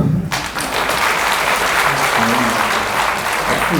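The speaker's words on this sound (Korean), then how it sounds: "박수." An audience at a meditation lecture breaks into applause, dense sustained clapping from a large crowd that starts abruptly and holds at full volume for nearly four seconds.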